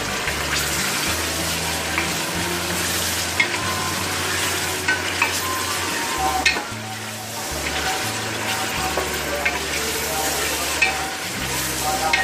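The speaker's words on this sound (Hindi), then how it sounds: "हमारा गोश्त अच्छी तरीके से फ्राई होगा लहसुन के साथ।" Meat sizzles loudly in a pan with crushed garlic and softened onion while nihari is being cooked. The frying hiss is steady and close for the full length, with occasional stirring clatter and no talk.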